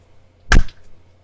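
One full hand clap rings out close and fairly loud in a quiet room, with a short, bright burst and a brief decay.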